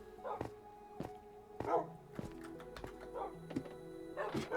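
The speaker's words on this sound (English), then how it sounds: "that's a lot of barking, though" Many dogs bark in the video game Minecraft, a dense chorus of short yips and barks coming in repeated bursts, some near and some farther off, with steady game ambience underneath.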